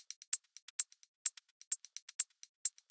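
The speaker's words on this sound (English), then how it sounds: "a little loop right here. It's like a hat with some glitches." A glitchy hi-hat loop from a music production session, with sharp, bright ticks firing in an uneven, stuttering rhythm over about three seconds, fairly quiet and alone.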